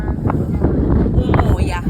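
Loud, gusty wind buffets the microphone in a steady roar, with a muffled voice faintly underneath.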